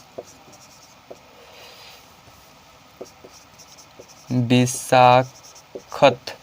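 Writing on a board: scratchy strokes and taps come in short bursts, fairly quiet, with a voice speaking loudly over the middle and end.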